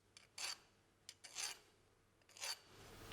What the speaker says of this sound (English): I'm going to use a smaller number 3 file, and on these sharp edges I'm going to deburr them